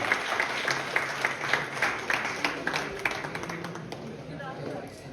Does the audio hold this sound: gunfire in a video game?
no